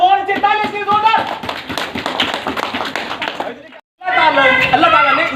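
Children clap for an answer in a mosque classroom, a burst of close, uneven hand claps mixed with chatter and voices, briefly cutting out before resuming.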